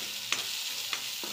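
A spoon scrapes three distinct times, evenly spaced, through spiced masala and cooked chickpeas in a pan, over a constant soft sizzle with no talking.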